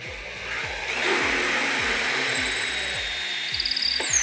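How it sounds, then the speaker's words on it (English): Power drill boring down through wood while building a banister, a high motor whine over repeated low rhythmic chugging pulses, close and loud, with a brief pitch shift near the end. "And we'll drill"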